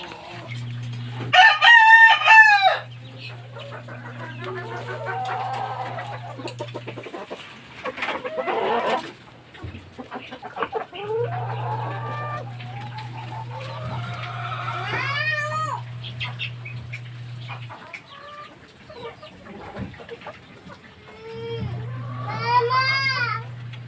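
Young chicks peep and a rooster crows repeatedly nearby among the fighting-breed chickens, with a steady low hum running underneath and other clucks mixed in.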